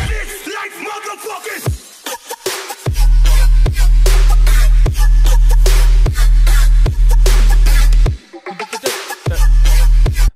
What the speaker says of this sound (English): We made the 808 for them for this song.